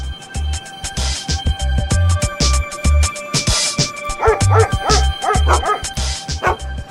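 Several dogs bark and yip in rapid, overlapping bursts, close and loud, with occasional whimpering mixed in.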